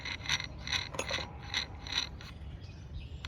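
A pulley is spun down onto the shaft of a 2007 Cadillac DTS power steering pump, giving a series of light metallic ticks and ratcheting clicks in a steady rhythm, close and fairly quiet with no talk.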